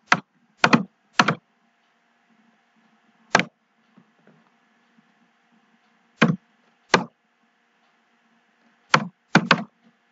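Keystrokes on a computer keyboard while a search is typed into Google, heard alone as short bursts of a few quick taps, with pauses of a second or two between clusters.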